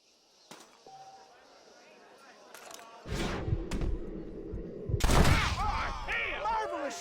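Gunfire in the Red Dead Redemption western video game on PS4: a sudden loud burst of shots and impacts midway, with further sharp blasts and ringing, over game ambience and character voices.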